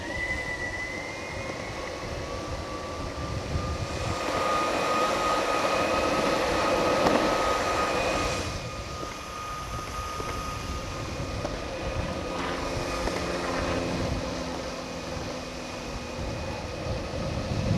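A WowGo 3X belt-driven electric skateboard climbs a hill at full throttle, its motor whine rising over a loud, steady rush of wheel and road noise.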